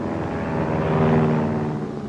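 An attacking propeller warplane from a 1944 B-17 gunner training film drones steadily and loudly, swelling slightly in the middle as it closes in, with no talking.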